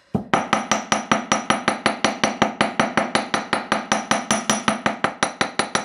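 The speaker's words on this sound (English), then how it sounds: "Now we're going to hammer this larger section." A large face hammer strikes jewelry wire on a metal block, flattening it with a fast, steady run of about thirty sharp metallic taps, close and loud with no voices.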